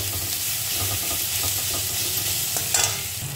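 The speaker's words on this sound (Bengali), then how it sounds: "আবার সব ভালো করে মশলার সাথে মিলিয়ে দেবো।" Chilli powder is stirred into spices frying in oil: a continuous sizzle runs under quick rhythmic scraping of a spatula against the pan, with a slightly louder clatter near the end.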